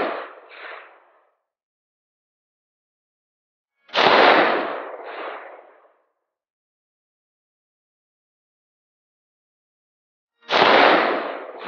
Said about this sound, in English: What do you think of the AK? Yeah, it's impressive. It's a bit of a recoil